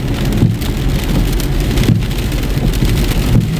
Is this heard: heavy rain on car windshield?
yes